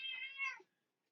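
A domestic cat gives a single clear, fairly quiet meow lasting about half a second, then trails off into silence.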